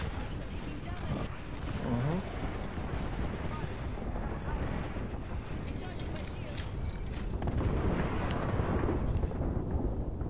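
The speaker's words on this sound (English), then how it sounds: "Airstrike." Dense, continuous rumbling explosions and crackling blasts from an airstrike in the video game Apex Legends, loud and sustained throughout with gunfire mixed in and faint talk underneath.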